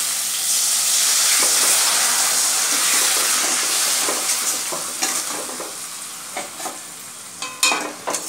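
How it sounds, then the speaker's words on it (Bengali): Mutton masala sautéing in a pan, a loud continuous sizzle and steam hiss that gradually eases, followed by scattered scraping and tapping of stirring toward the end. "এবার ভালোভাবে কষিয়ে নেব।"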